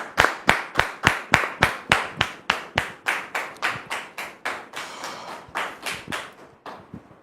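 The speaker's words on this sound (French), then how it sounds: "Merci de le recevoir sous vos applaudissements." A television studio audience claps together in a steady, even rhythm, each clap loud and crisp, the beat loosening slightly and fading near the end.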